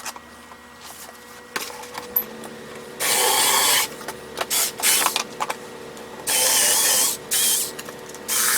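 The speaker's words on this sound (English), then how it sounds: "I'm going to use the masking tape to secure them on to the top and the bottom of my ottoman" Masking tape pulled and torn off the roll for a cardboard ottoman build, loud ripping bursts, one long strip then a series of short choppy tears and another long pull, close up with no voices.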